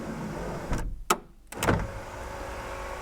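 An electric motor on a Volkswagen Corrado G60 raises the body trim panel: a brief mechanical whir with a clunk at the end, fairly quiet and close, with a low hum underneath.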